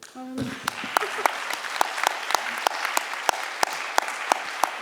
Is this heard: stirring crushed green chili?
no